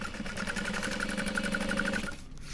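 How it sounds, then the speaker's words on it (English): Fast, even stitching from a sewing machine sewing a fabric bag runs steadily for about two seconds and then stops abruptly. No voice is heard. "we're gonna sew this"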